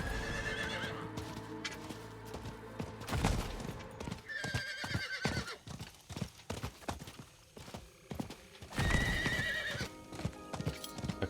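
A horse in the video game Diablo IV gallops with rhythmic clip-clop hoofbeats and several loud whinnies, game music and effects layered underneath across the whole stretch.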